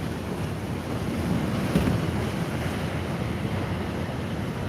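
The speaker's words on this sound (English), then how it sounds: "Hopefully the waves aren't too bad." Ocean waves break on the shore in a steady, loud, continuous roar, with wind buffeting the microphone throughout and no distinct individual wave crashes.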